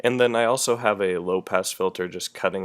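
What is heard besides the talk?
No distinct noise like a dog, phone or traffic.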